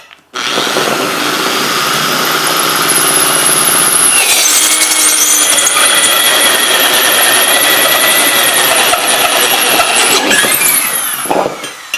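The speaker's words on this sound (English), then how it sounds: "drill down, and you will drill a guide for the rest of the cut with your hole saw" Power drill boring through material with a hole saw, a loud continuous whining grind that shifts pitch partway through as the cut deepens, then winds down at the end.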